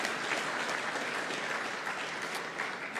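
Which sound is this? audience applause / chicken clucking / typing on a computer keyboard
audience applause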